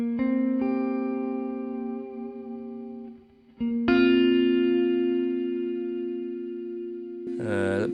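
An electric guitar played through a Line 6 HX One pedal on its dynamic plate reverb sounds two sustained chords with long, shimmering plate tails. A brief swirling effect closes the clip.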